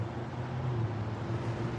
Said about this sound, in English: I can hear the electricity from the generating station right here.